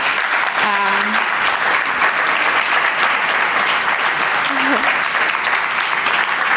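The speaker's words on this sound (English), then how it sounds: "If we can give a round of applause." Sustained audience applause fills the room at a research lab launch event, steady dense clapping throughout with a brief voice or two underneath.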